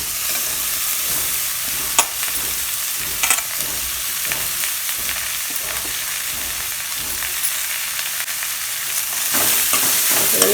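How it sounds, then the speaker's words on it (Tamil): Finely shredded cabbage frying in a pan, a continuous close hiss and crackle of sizzling with occasional scraping knocks as it is stirred, swelling louder near the end, no talk. "இதையும் போட்டு நல்லா கிண்டிக்கலாம்."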